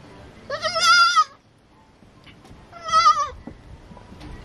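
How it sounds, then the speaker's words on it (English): Young goat kids on a farm bleat in two loud, wavering cries about two seconds apart, close by, with quiet farmyard background between the calls. "I'm showing Adiana two nice goat kids"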